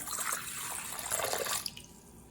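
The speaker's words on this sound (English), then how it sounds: "put the water in there" Water pours steadily into a bowl of yeast for bread dough, a close, splashing trickle that stops abruptly near the end.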